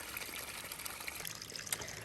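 Water trickles and splashes at a trail water source along the Appalachian Trail, a continuous close, bright dribble with no voices.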